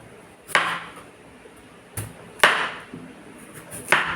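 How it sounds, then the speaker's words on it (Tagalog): Sharp knife slicing jicama into small pieces on a board, with four distinct crisp cutting thuds spaced irregularly over a few seconds, close and fairly quiet. "I-slice ko lang po ito ng maliliit. Matalas yung ating kutsilyo."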